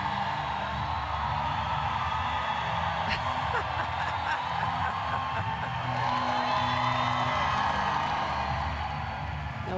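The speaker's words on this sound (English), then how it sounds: "Oh, you put Thailand on and the crowd is going crazy." Volleyball crowd at a women's Serbia versus Thailand match, a dense, sustained roar of cheering and whooping that swells in the second half, with a commentator talking over it.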